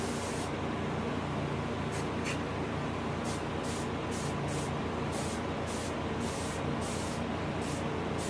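Fine aerosol spray paint hisses in short bursts and longer passes as a light coat goes onto a hybrid striped bass taxidermy fish, quiet and close, with brief gaps between sprays.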